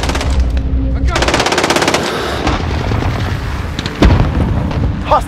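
Rapid automatic gunfire from an AN-94 rifle in the Modern Warfare video game on PS5, dense sustained bursts with a sharp louder shot near the end, close and loud, over a battlefield din.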